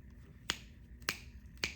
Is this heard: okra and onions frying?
no